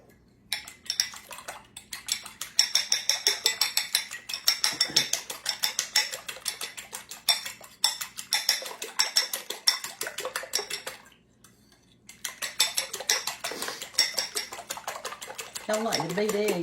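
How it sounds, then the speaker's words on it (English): A sturdy fork beats eggs in a bowl for a coconut custard pie, clicking rapidly and steadily against the sides in quick, close bursts, with a short pause near the end before the brisk rhythm resumes. "Beat it up good."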